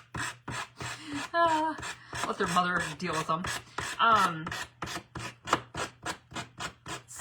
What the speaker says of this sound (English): it's sanding. You gotta sand off the edge.